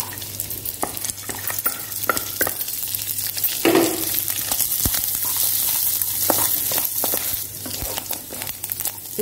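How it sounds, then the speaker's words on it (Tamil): Cashews, raisins and cardamom fry in a pan for Panruti jackfruit prathaman, giving a loud, close sizzle with frequent scraping and clinking stirs throughout. "வர வரைக்கும் வறுத்துட்டு அப்புறம் நம்ம முந்திரி திராட்சை போட்டுக்கலாம்"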